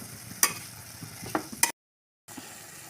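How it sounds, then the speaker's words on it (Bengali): Stirring chicken and onion with ginger-garlic paste in a pan, heard as a few sharp scrapes and clinks over a soft sizzle, broken by a brief silent gap. "এর মধ্যে দিয়ে দেবো এক চামচ আদা রসুনের রস দিয়ে ভালো করে এটা নেড়ে নেব"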